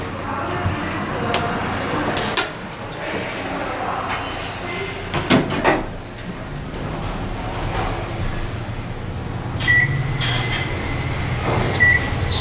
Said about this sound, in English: Still have all the original Dover door, hoistway equipment. You can hear it. All those limit switches.